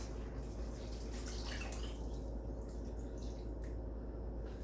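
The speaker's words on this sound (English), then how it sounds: "you're gonna put your 3 cups of beef broth" Beef broth poured into a soup pot, a quiet continuous splashing trickle of liquid in a kitchen, heard alone with no talking.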